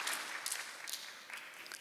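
Church congregation applauding during a Sunday worship sermon: a soft, steady wash of many hands clapping, faint and somewhat distant, running continuously without speech.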